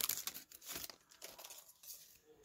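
A 1991 Score baseball card pack is torn open by hand, a quick burst of crinkling, tearing foil wrapper right up close, fading into lighter rustling.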